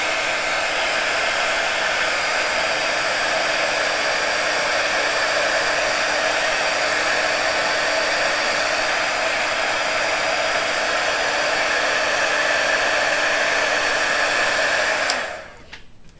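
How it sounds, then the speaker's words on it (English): A hair dryer runs steady and loud at close range for about fifteen seconds, drying ink on paper, then switches off and winds down abruptly near the end. No one speaks. "So I'm going to dry it for just a moment."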